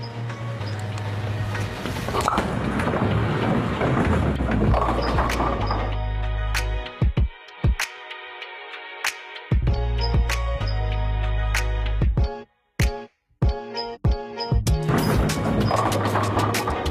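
A bowling ball rolls down a lane and crashes loudly into the pins, followed by a scatter of sharp clattering knocks and pin rattles as the rack settles, heard close and without talk.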